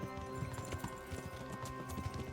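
Horse hooves clip-clop in steady, rhythmic strikes in the video game Kingdom Come Deliverance, close and fairly quiet over a dense background of game ambience, with no voices.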